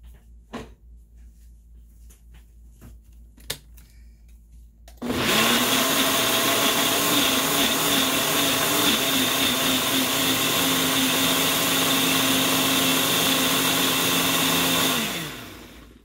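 An electric spice grinder loaded with paprika starts abruptly after a few faint clicks and runs loud and steady for about ten seconds before spinning down.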